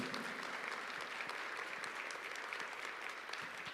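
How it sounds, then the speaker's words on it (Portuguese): Church congregation applauding, a steady, fairly distant wash of many hands clapping that continues evenly throughout. "Uma salva de palmas para Jesus."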